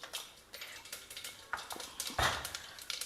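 Mustard and fenugreek seeds hit hot oil for a South Indian tempering, crackling and popping in quick irregular bursts over a steady close sizzle, with a louder spattering burst partway through.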